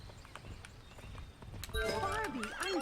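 Horse hooves clip-clop in a horse riding video game, soft rhythmic steps that give way to a louder, wavering whinny near the end, with someone talking over the game sounds.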